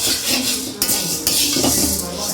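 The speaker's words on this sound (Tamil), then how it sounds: "இப்போ வந்து வறுத்துட்டு இருக்கோம் நம்ம பச்சை பயிரை." Green gram is dry roasted in a pan, a utensil scraping and stirring the dry grains with a steady rustling hiss and a couple of sharper metallic knocks, close and moderately loud, with no speech.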